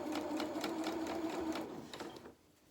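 Sewing machine stitching trim onto a reversible winter cape, a close, steady whirring run of rapid stitches with a faint tonal hum, lasting about two seconds before stopping abruptly.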